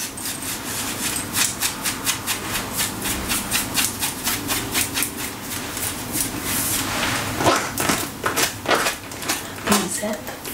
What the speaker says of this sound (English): Let me know what you think of the tight sounds.